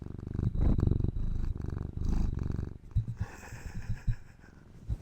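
A cat purrs close to the microphone in loud, rumbling pulses, then softer, more broken purring and snuffling toward the end.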